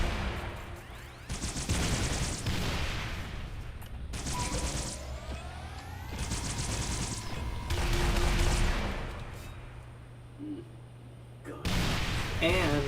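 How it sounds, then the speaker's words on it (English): Halo plasma launcher in firefight mode, charged up to four shots and fired as lock-on grenades: several loud bursts of crackling, whooshing sci-fi fire with rising electronic sweeps, separated by brief lulls and a low steady hum. "Next we have the plasma launcher"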